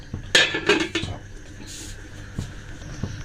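A lid is set onto a cooking pot of cabbage boiling with ginger and chillies, giving a couple of sharp metallic clanks near the start followed by softer clinks and quiet kitchen rattles.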